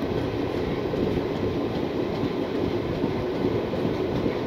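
Steady rumble and rattle of the KanchanKanya Express rolling along the line near Sevoke station, a continuous close interior rail noise with no voices.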